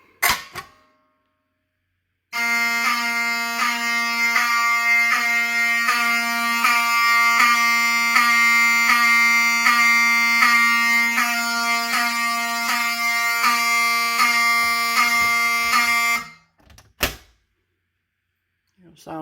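A fire alarm notifier sounds after the alarm panel initiates, a loud, continuous pulsing horn tone with rapid regular beats lasting about fourteen seconds, then cutting off abruptly, with brief clicks before and after.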